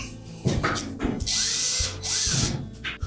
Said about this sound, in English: We'll just put a couple of screws in first